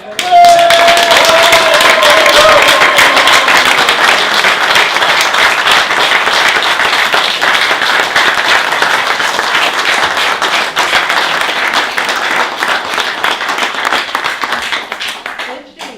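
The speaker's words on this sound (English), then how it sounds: "I just wanted everyone to give Angela really a hand of applause." A conference hall audience at an Oxford event on Emperor Haile Selassie I applauds loudly and continuously for Angela, a dense wash of clapping that holds for the whole stretch before slowly thinning toward the end.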